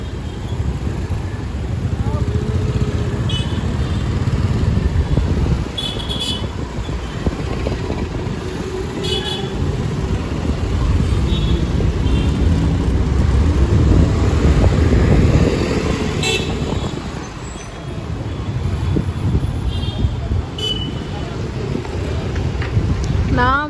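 A motorcycle carries three riders along a road, with a loud, continuous engine drone and wind rumble throughout and people talking over the noise.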